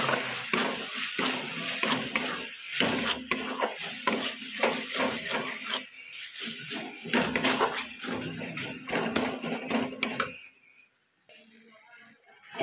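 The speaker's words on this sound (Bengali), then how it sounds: "এবার সব গুঁড়ো মশলাটা আমি মিশিয়ে দেবো।" Powdered spices are stirred into a masala in a pan. A spatula scrapes and clatters steadily against the metal for about ten seconds under a soft sizzle, then the sound drops away to near quiet.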